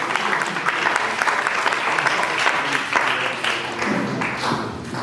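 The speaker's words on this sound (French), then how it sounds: "Je vous demande d'applaudir, d'encourager monsieur Daniel Touambi." Audience at a benefit evening for victims in Kasai applauding to welcome a speaker, lively clapping for about five seconds with some voices mixed in.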